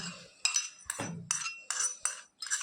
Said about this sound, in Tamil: இப்போது எல்லா கடுகையும் நான் இதில் போட்டுட்டேன்